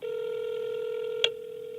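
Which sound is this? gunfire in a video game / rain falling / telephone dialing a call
telephone dialing a call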